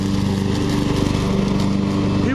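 Riding lawn tractor engine running at a steady, loud, close drone with a rapid pulsing firing rhythm throughout.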